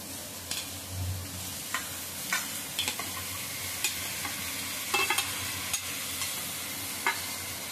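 Cluster beans hit hot oil with fried spices, giving a steady, moderate sizzle with scattered stirring clicks and scrapes throughout.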